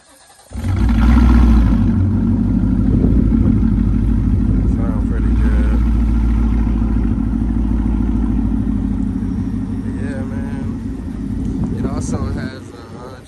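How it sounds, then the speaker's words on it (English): A 2019 Ford Mustang GT with a 10-speed gearbox, JLT intake and tune, fires up by remote start and then settles into a loud, steady idle rumble close by. No one speaks while it runs, and the sound drops away near the end. "Go ahead and give you a little remote start."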